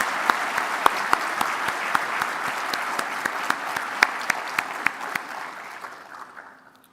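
Audience applauds prize winners in a full, even burst of clapping with some sharper individual claps, sustained and then tapering away to silence near the end.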